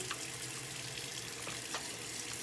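Tap water runs steadily into a sink, a constant hissing splash with no pauses.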